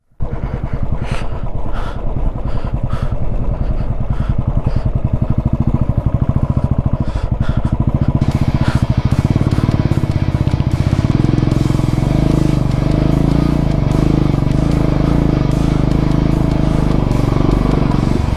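A motorcycle labouring in first gear with half clutch over a rough, broken mountain road in Ladakh, its engine thrumming loud and close throughout with rising revs and clattering bumps from the rough surface.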